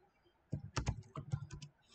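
Typing an SQL delete query on a computer keyboard: a quick, close burst of several clicky keystrokes in uneven rhythm after a brief quiet start.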